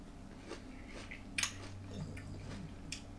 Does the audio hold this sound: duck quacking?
no